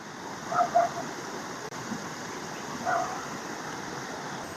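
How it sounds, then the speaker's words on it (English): A small creek running through woods in a retirement community makes a steady, soft rush of flowing water, moderately distant and even throughout, with no talk. "This is the creek."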